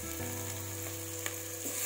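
Onions and tomatoes frying in a pan for rajma veggie pulav, a steady close sizzle that stays dense and even throughout, with a few faint stirring knocks and no voices.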